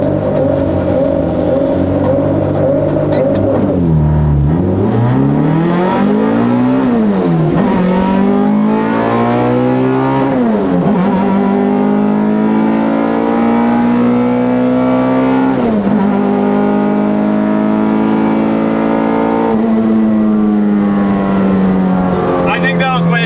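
An all-motor H-swapped Honda EK hatchback launches hard at a drag race against a Porsche, its engine screaming up through the revs in several rising pulls broken by quick shifts. The engine is loud and close, with talk over it.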